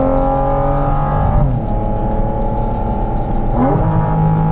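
Porsche 718 Cayman GT4 RS engine revving while driving, a loud, close high-pitched howl rising in pitch, briefly dipping at a gearshift, then climbing again.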